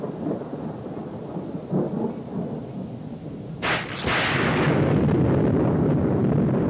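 A nighttime thunderstorm with a steady wash of rain and low rumbling, then a sharp crack of thunder midway followed by a heavier, louder roll that keeps booming close by.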